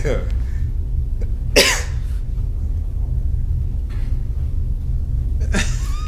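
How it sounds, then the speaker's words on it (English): A few sharp coughs stand out, spaced apart, over a steady low rumble and background murmur. "I'm coughing in the background and shit."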